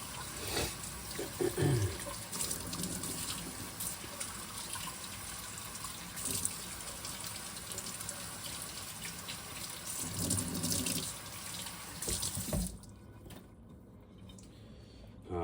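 Tap water runs steadily as soap is rinsed off a knife blade at a sink, a continuous splashing rush with a few brief shifts in the flow before it cuts off near the end.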